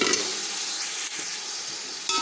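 Beef added to tomatoes already frying in a pan sizzles with a steady, bright hiss, close and continuous, with a few soft stirring scrapes and no talk.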